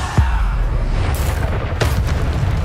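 A Bombarda spell detonating in the Hogwarts Legacy video game gives a loud, deep boom with a crackling burst, then a second blast amid ongoing combat rumble.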